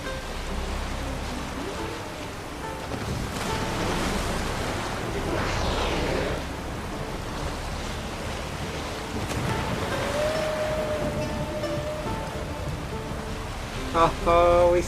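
Ocean waves wash and surge steadily while sailing a boat in The Witcher 3, with wind and water rushing continuously throughout, followed by a brief tonal game sound near the end.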